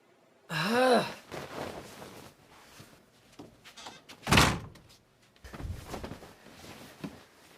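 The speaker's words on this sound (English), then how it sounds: "Hey, close the door!" A door is shut partway through, with a sharp loud thump amid sighs, gasps and rustling movement; a voice exclaims before it and quieter shuffling sounds follow.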